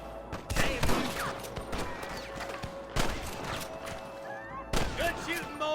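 Gunfire in the Western game Red Dead Redemption, a handful of loud separate shots spaced a second or two apart amid a busy firefight, with voices talking and shouting in between.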